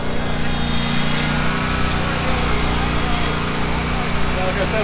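A Yakta lawn mower's small engine runs loud and steady at constant speed, a continuous close drone with no pauses.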